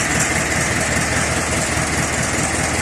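An original Ursus C-360 tractor engine, freshly rebuilt and unused all winter, idles steadily with a deep, continuous rumble and a faint knocking beat, loud and close, with no other sounds.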